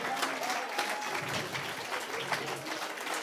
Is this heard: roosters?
no